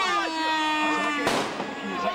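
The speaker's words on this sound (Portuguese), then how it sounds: "um pedaço de rojão que foi embora" A firework bang at a football match, one sharp crack cutting through a steady crowd roar and a sustained tonal hum.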